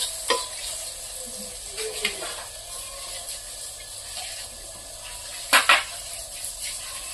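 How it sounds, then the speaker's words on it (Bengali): Lentil dal is tempered with fried onion and chili. Soft stirring and scraping lead to a couple of sharp, loud sizzling bursts near the end as the hot oil meets the dal; no talking. "এখন আমি ডালকে সম্বাদ দিয়ে দেবো।"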